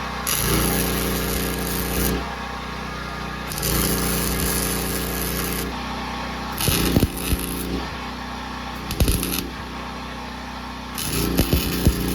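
A steering bracket is welded on during a Trail Forged OTK steering install, the arc buzzing and crackling in two long runs of about two seconds each, then several shorter bursts, close and loud with no talk.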